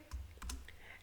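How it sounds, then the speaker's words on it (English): A few quick keystrokes on a computer keyboard while an Excel formula is typed, soft close clicks in a short burst with no talking. "Whenever you write a formula in Excel, you always start with the equal to sign. So I'm going to write equal to if"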